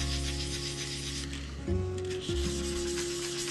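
Fine 600-grit sandpaper is rubbed by hand over a varnish coat, giving a soft, steady scratching hiss up close, with a brief shift in tone partway through and no talk.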